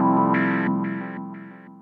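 Synthesizer preset on a Dave Smith Rev2 or Prophet 6 plays a sustained chord with bright, changing upper tones and a chorus-like shimmer, fading gradually over under two seconds with no talking.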